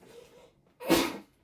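A single sharp sneeze bursts out near and fairly loud after a soft breath, in a quiet indoor setting.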